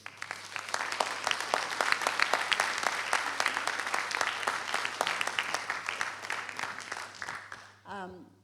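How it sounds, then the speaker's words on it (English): Audience applause for a speaker at an academic talk, dense steady clapping from a seated crowd that fades out, followed by a brief spoken voice at the end. "let's have another round of applause for Laura"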